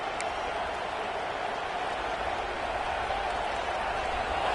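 Steady, dense roar of a college football stadium crowd during a CFP game against FSU, cheering on third down, sustained and fairly loud throughout with no break.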